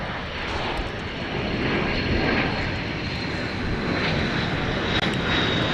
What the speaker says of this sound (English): The Airbus A340 300.